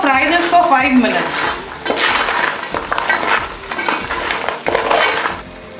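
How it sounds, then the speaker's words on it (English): Metal clatters and scrapes in a pan as crab claws and shells are stirred with dried spices, with a faint sizzle of frying underneath. "We will now fry this for 5 minutes."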